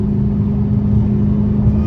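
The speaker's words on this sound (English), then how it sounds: "Dude, I love the exhaust sound." A Dodge Challenger Hellcat Redeye rumbles on a night drive through downtown Los Angeles, its exhaust a loud, steady low drone with a deep throbbing hum, heard from inside the car without talk.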